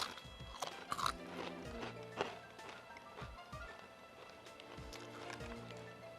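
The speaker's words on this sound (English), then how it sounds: "Crunch, chug, repeat, brother." Doritos tortilla chips crunch in a steady series of close, sharp bites and chews, a dense run of crackly sounds with no talking over them.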